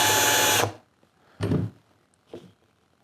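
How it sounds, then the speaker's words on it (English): A power drill whirs steadily for about half a second while drilling pilot holes in a bottle opener, then stops. Two brief, quieter bursts of drilling follow after a pause. "But I like to drill pilot holes."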